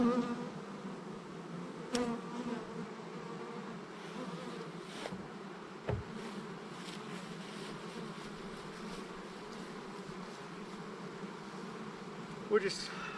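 Agitated honey bees swarming around an opened garden hive after burr comb was torn, a dense continuous buzz close to the microphone with a few louder passes and soft knocks, no talking.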